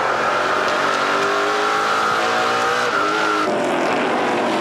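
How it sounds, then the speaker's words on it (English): A NASCAR Pinty's Series race car at Edmonton International Raceway holds a brief burst of throttle before the engine note drops off the gas, with tire squeal, loud and close. "Listen to how long LeBay is on the throttle."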